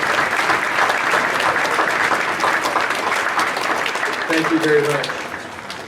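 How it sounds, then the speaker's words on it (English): Sustained applause from an assembly honoring veterans and their family members, steady and dense throughout, with a voice briefly speaking near the end as the clapping tapers. "Let's give them a round of applause."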